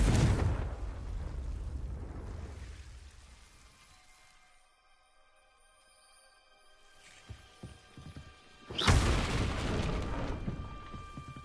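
Incendio and Confringo spells explode in the Hogwarts Legacy video game. A deep rumbling blast fades into a quiet, ringing lull, then another heavy crackling explosion bursts out loudly.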